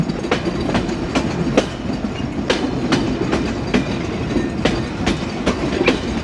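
The Rupsha Express, running between Khulna and Chilahati, rolls along near Mobarakganj with a loud, continuous rumble and sharp, regular clickety-clack wheel beats repeating about twice a second.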